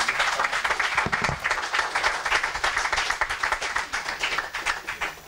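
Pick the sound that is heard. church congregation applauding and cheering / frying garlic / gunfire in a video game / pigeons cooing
church congregation applauding and cheering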